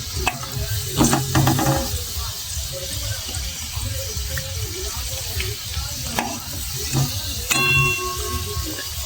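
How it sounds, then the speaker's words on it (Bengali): Flattened rice (chira) fries in oil over low heat, a continuous close sizzle with intermittent stirring clatter and brief scrapes, and a voice talks faintly now and then. "যেমন কি সুন্দর ভাজা হচ্ছে, চিড়েগুলো সাইড দিয়ে ছেড়ে গেছে"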